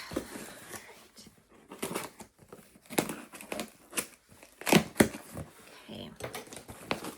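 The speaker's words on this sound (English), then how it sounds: "So I'm gonna go ahead and just cut through both of them." A blade cuts through cardboard subscription boxes in a series of close, scratchy tearing and crinkling bursts with short pauses between, and a brief spoken word in the middle.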